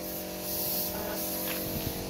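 An aerosol can sprays in a continuous loud hiss lasting about two seconds, close and without pause, with no talking over it.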